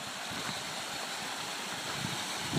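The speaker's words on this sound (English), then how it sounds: "And we have a waterfall in the desert." A small waterfall pours over placed rocks in a restored desert swale, giving a steady, soft broadband rush of flowing water at moderate distance, unbroken throughout with no voices.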